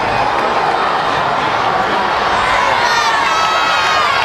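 A huge crowd roars and cheers without a break at the Superdome Classic, a high school football game, the dense shouting loud and continuous with no distinct voices standing out.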